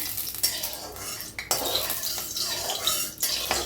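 Okra spread out in hot oil in a kadhai for garlic okra, with a spatula scraping and clinking against the metal over a soft sizzle in uneven bursts, close and fairly quiet.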